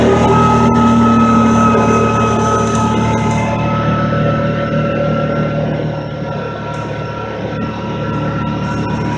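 A 2022 Kawasaki Teryx S LE 800 UTV drones steadily while riding, a loud continuous engine hum with layered harmonics that eases slightly midway, rolling on without pauses.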